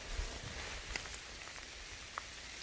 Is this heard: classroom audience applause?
no